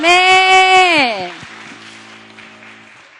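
A school congregation at a Wednesday church service lets out a loud, sustained whooping cheer that bends downward and breaks off, followed by softer, fading applause.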